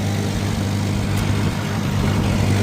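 A farm tractor engine runs steadily nearby, a constant low droning rumble with no change in pitch or rhythm and no voices over it.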